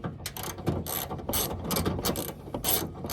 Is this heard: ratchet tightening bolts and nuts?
yes